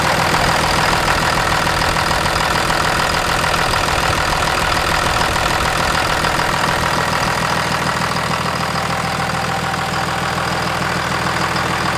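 A 24V Cummins diesel with newly installed 125HP SAC injectors idles just after first startup with the valve cover off, a loud, close, steady clattering rumble throughout.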